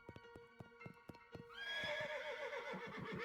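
A horse in the video game Shadows Over Loathing clip-clops in a steady run of hoofbeats, then lets out a long, loud neigh that rises and fades over the final seconds. No talk is heard.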